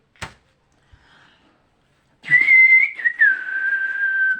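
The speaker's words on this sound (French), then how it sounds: "j'ai retrouvé mon sifflet au fait" A few faint knocks and taps, then a loud, close whistle blown in one long sustained note that wavers slightly and then holds steady.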